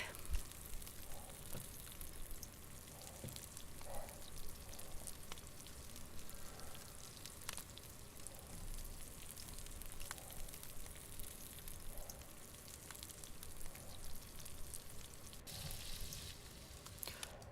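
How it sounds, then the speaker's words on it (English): Faint, steady crackling sizzle of ambient noise in the DayZ video game, continuous and quiet with scattered soft clicks and no voices. "Oh, it has the fucking sizzling noise again."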